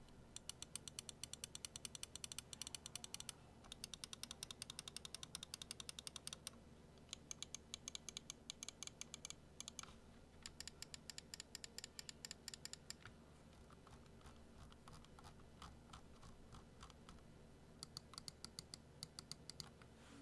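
Buttons of a Fantech Aria XD7 egg-shaped gaming mouse clicked repeatedly at close range, with quick bursts of crisp clicks separated by short pauses, faint and without speech.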